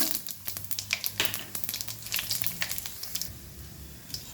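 Cumin seeds and urad dal crackling and sizzling in hot oil, a steady stream of sharp pops and spits over a soft frying hiss, close and moderately loud.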